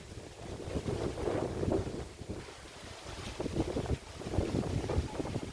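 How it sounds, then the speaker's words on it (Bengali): Countryside wind blowing in open rural air beside stacked firewood and jute, heard as gusty, rumbling buffeting against the microphone that swells and eases over several seconds, with no voices. "কত সুন্দর বাতাস বইতেছে"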